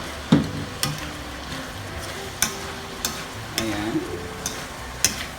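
Ground pork and beef sautéing in a pan with hotdog for Filipino-style spaghetti, a soft steady sizzle punctuated by sharp spatula clacks and scrapes against the pan at irregular intervals, close up, with a brief spoken word.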